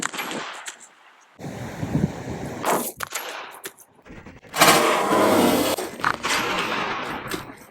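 Rapid 9mm pistol shots from a Sphinx handgun with a threaded barrel crack out in sharp bursts, some fired in quick succession, with loud reports and gaps of quiet between strings.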